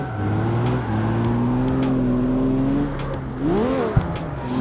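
A V12 car drifting in fourth gear in CarX Street, its engine holding a steady high drone with layered harmonics, then a quick rev rise and drop near the end, loud and close with no talk.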